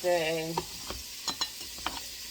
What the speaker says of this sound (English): the peppers and the onion cook for a bit. They saute for a few minutes.